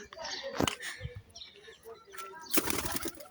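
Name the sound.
pigeon flapping wings in flight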